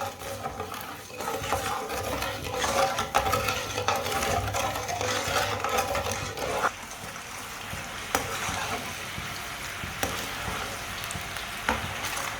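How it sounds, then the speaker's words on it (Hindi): Sugar being stirred into water for a Punjabi winter recipe, a steady scraping swirl with a soft sizzling wash running throughout, moderately close and unbroken, with a few sharper spoon taps near the end. "चीनी को पानी में मिक्स करना है"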